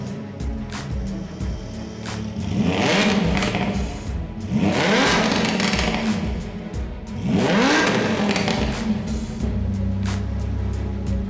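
Supercharged, chip-tuned Lamborghini Huracan engine revving hard in three loud, rising surges roughly two seconds apart, each climbing in pitch before dropping back to a rumbling idle, close and alone.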